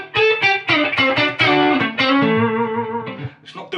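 An electric guitar through a Victory Sheriff 44 amplifier plays a short sequence of chords and notes, each softly trailed by a faint echo and a light, spacious reverb tail.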